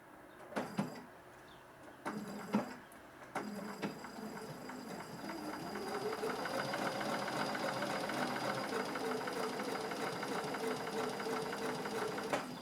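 A home sewing machine, run while quilting appliqué, gives a few soft clicks and knocks as the bobbin thread is brought up, then settles into a faint, steady rhythmic whirr of stitching that lasts to the end.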